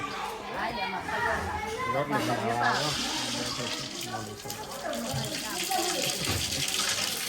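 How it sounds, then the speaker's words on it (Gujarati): Tap water runs into a vessel in a busy household kitchen, a steady splashing rush that grows brighter partway through, heard beneath ongoing conversation and children's voices. "બા પાણી ભરાય છે"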